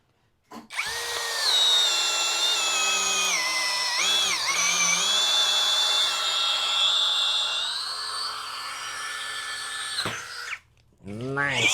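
A Kyoal KY1601 drill driver runs at speed 1, a close, steady high-pitched motor whine lasting about ten seconds with slight pitch dips, then stopping abruptly, followed by a brief bit of speech.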